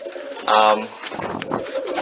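A blue grizzle pigeon gives a short, throaty coo up close, with a person talking faintly around it.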